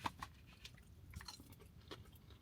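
Crunchy tortilla strips being chewed as a topping on chicken, rice and salsa at Applebee's, giving close, irregular crisp bites and crunches over several seconds with no talking.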